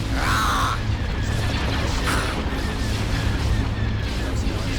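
Starship weapons fire in the space strategy game Star Wars: Empire at War, Thrawn's Revenge mod: dense, continuous battle noise with repeated bright laser-like bursts and booms layered over a steady rumble.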